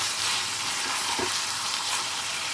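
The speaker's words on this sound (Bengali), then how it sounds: "চিকেনটাকেও ভাজবো একটুখানি, তখনও পেঁয়াজটা একটু ভালো করে ফ্রাই হয়ে যাবে।" Marinated chicken fries with onions in a pan, a steady close sizzle with a brief stir or scrape in the middle.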